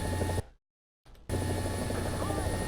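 Helicopter rotor and engine drone in War Thunder simulator mode, a steady thrumming hum that cuts out abruptly to silence for about half a second before resuming at full level.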